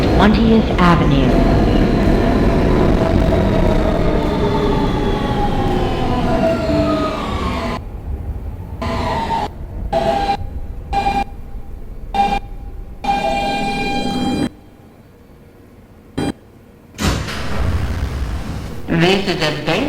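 An R160B Siemens W subway train on the D line runs loudly with motor whine, then slows and fades. Near the end there are sharp dropouts and quiet gaps, and the noise picks up again briefly.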